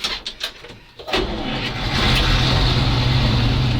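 A ZIL 131 truck engine cranks in a few uneven bursts, then catches and settles into a loud, steady, rumbling idle close by, with no talk over it.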